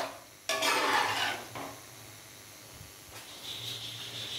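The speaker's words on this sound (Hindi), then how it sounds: "पानी डालने के बाद थोड़ा इसको मिक्स करेंगे।" A spoon stirs water into a pot of fried potato masala with a short scraping swish, then quiet sizzling and a faint simmer follow; no talk.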